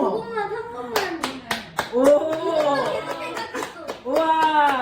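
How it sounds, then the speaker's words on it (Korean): Scattered hand claps ring out during a church service, several sharp separate claps mixed with cheering voices and children talking rather than a sustained wave of applause. "박수 쳐주세요"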